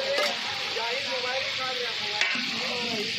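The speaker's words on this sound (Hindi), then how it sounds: "अब आलू को कर लेता हूँ फ्राई।" Potatoes fry in a big cooking pot for a biryani, a steady loud sizzle with scraping stirs and occasional clinks of a utensil throughout.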